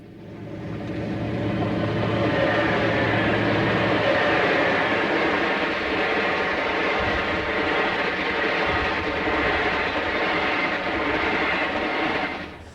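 The Abraham Lincoln passenger train rolls past near Chicago, a loud, steady rumble of wheels and rail clatter that swells in, holds for about twelve seconds, then eases off at the end.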